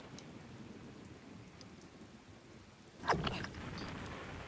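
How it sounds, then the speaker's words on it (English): Steady rain falls throughout a scene in Sierra's The Hobbit computer game, with a sharper rumbling crack of thunder near the end and no talking. "Ah, this dratted rain."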